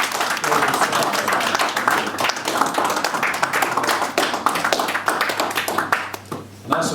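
An audience at a Labour Party campaign launch in 2015 gives dense, sustained applause from start to finish, close and lively, fading briefly near the end.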